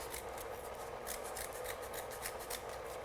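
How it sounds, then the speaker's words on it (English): Heavy-duty Fiskars scissors cut through cardboard, a steady run of crisp, rasping snips repeating close by with no talking. "I'm gonna cut this cardboard down to size."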